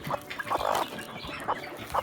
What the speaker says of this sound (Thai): เนี่ยไก่ป่ามันอยู่ตรงเนี้ยครับ เนี่ยมันแอบอยู่เนี่ยครับย มันจิกผมด้วยครับ